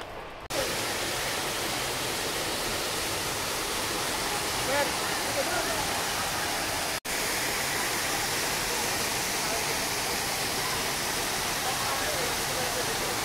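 Rushing river water at Bluerock Lagoon in Rodriguez, Rizal, a loud, steady broadband roar that runs without pause from start to finish, with one very brief dropout near the middle.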